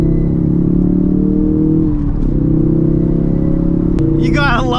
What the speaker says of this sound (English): From factory, this thing got some exhaust pops.